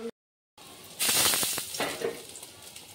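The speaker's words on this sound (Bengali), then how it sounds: "এবার উষ্ণ গরম জল দিয়ে দেব।" Warm water hits a sizzling restaurant-style mutton curry after a brief silence, flaring into a loud, hissing sizzle that slowly settles and fades, with no talking.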